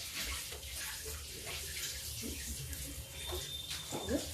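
Running tap water splashes steadily into a sink as an eggplant is washed in a home kitchen, a close continuous flow with small irregular spatters and no speech.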